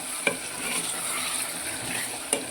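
Spiced chicken biryani masala is stirred in a pan with a steady soft sizzle. Two sharp scrapes of the spoon against the pan break through the sizzle, and no one talks.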